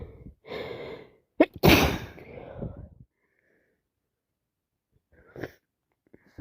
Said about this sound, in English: I need to sneeze again.